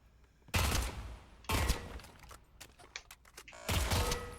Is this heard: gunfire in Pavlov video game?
yes